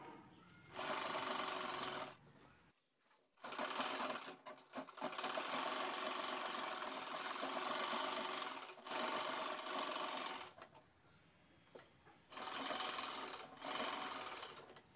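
A sewing machine stitches the lining of a tote bag along three sides, running in long steady whirring bursts up close with brief stops between seams.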